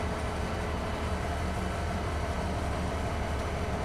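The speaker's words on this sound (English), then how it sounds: "the fact that the train is working again is really cool" A train running in a farming video game, set in Saskatchewan, gives a steady, continuous rumble with a broad noisy roar that holds at an even level throughout, with no talking.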